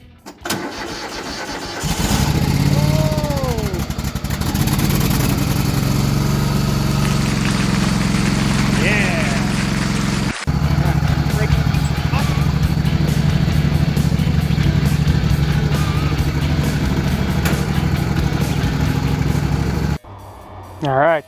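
A Craftsman GT 5000 lawn mower engine starts up and runs loudly at full throttle, a steady close roar with a short break midway, ending abruptly near the end.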